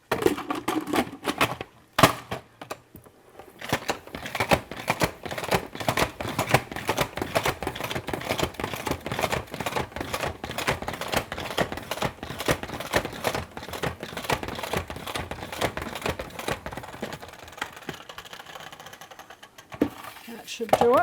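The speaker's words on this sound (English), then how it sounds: "I'll spin it in the salad spinner." A salad spinner whirs and clatters as it spins washed kale dry, a rapid rattling that runs steadily for many seconds before slowing near the end, with talk nearby.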